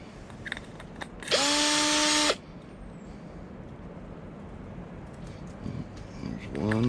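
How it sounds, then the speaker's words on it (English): A power drill whirs loudly in one burst of about a second, clearing holes in a penny stove, then cuts off, leaving quiet room noise and a brief bit of talk. "I'll just go in with a drill bit and"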